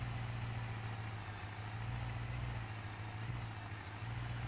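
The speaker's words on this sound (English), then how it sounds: "Would I like to change the engine sound to a more aggressive one?" Steady car engine idle in the BeamNG driving game, a constant low rumble with an even hum holding level throughout, no speech.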